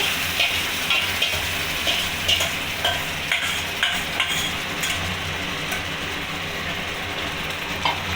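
Chicken frying in a pan is stirred with a utensil, giving repeated scraping knocks over a continuous moderate sizzle, the strokes coming in an uneven rhythm.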